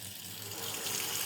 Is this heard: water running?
yes